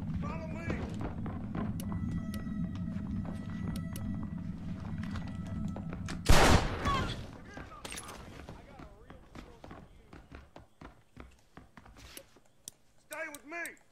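Gunfire in the video game Red Dead Redemption: one sharp, loud shot bursts out midway over a busy game soundscape of humming, ticks and scattered clatter, with voices nearby.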